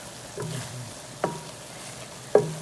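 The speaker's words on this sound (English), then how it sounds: "I'm gonna give this one more stir" Meatballs in tomato sauce simmer softly in a pan while a spoon scrapes through them in three separate stirs, each a short, sharp scrape over a quiet bubbling background.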